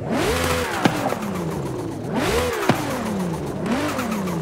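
A turbocharged hypercar in a racing video game revs repeatedly, each rise in pitch followed by a falling whine and a sharp turbo blow-off, close and steady across three cycles.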